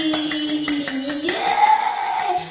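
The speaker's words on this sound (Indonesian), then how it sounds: "Tepuk tangan sekali lagi" Children in a primary school Easter worship service clap their hands in a quick, steady rhythm at close range, with sung or spoken voices running over the claps.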